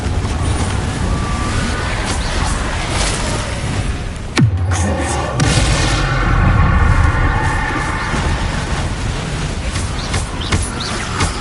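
Fire spell blasts, Confringo and Incendio, cast in a video game. A single sharp blast with a falling tail lands midway through a steady wash of game noise and rumble.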